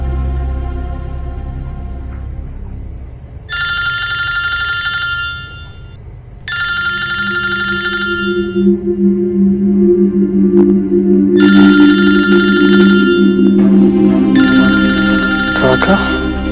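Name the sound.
telephone ringing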